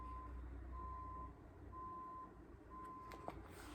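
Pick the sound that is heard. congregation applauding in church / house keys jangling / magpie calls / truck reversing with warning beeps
truck reversing with warning beeps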